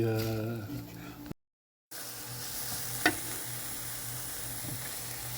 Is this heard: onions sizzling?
yes